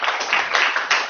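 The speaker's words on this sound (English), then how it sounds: "give him a warm round of applause" Brief burst of audience clapping at a university lifestyle forum, a short patter of hands rising and falling in small waves, fairly close and alone without talk.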